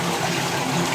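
Clear stream water rushing strongly at the dead end of a waterway, a dense, continuous close wash of flowing water with no voices.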